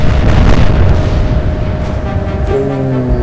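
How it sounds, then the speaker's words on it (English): Shell explosions in the naval game Atlantic Fleet, a loud rumbling boom rolling on with debris-like crackle, then a second burst near the end, with no voices. "It's two big explosions."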